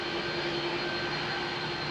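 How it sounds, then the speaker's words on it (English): An airliner fitted with old CF6 jet engines at Heathrow makes a continuous, even jet roar with steady whining tones, unbroken and fairly close, with no talk. "old school CF6 engines"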